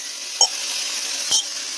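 Boiled cowpeas being turned in a hot pan with torn chillies, a steady close sizzle with a couple of brief spoon or utensil knocks against the pan, no talk.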